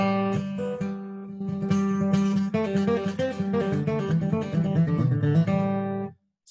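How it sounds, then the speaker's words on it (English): A steel string acoustic guitar played alone and close, bright ringing strummed chords and picked notes for about six seconds before the sound cuts off. "Yeah, so this is a steel string guitar."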